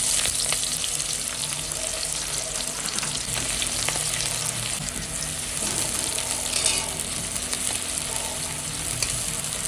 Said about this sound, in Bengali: এখন আলু ভাজছি